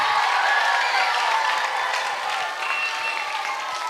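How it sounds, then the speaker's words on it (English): An indoor audience at a health and nutrition talk gives sustained applause, dense steady clapping throughout with faint cheering mixed in. "So one big round of applause to everybody, including the cameraman there."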